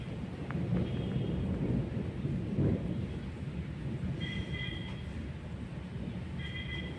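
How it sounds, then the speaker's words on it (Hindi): Heavy rain, a loud, dense, continuous roar with a deep rumble underneath, steady from start to finish, and faint high chirps over it near the end. "बहुत ज़्यादा बारिश हो रही है।"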